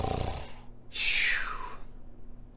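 A giant snores loudly in a told fairy tale, one long rasping snore followed by a rough, rising snort-like breath, close and heavy, likely a voice imitating the sound.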